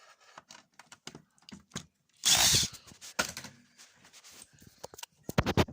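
A power drill unscrewing bolts gives one loud, close whirring burst of about half a second, set among scattered clicks and clatter of metal parts being handled.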